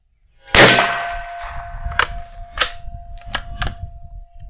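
A rifle shot strikes a steel gong target with a sharp bright clang that rings on as a long sustained tone, followed by several softer knocks and clicks over wind noise.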